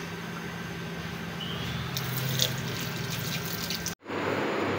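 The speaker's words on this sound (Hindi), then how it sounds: "सबसे पहले हम चिकन वॉश कर लेंगे" Half a kilogram of raw chicken rinsed under a running kitchen tap, a steady close rush of water with small splashes, cutting off briefly before flowing again.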